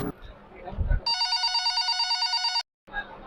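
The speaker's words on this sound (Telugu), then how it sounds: "ఫోన్ చేద్దాం ఫస్ట్" A phone's ringback tone sounds while a call is being placed: a steady, buzzy, electronic ring holds for about a second and a half, then cuts off. Voices and handling noise come before it and resume after a short gap.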